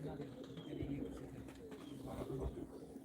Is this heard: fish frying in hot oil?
no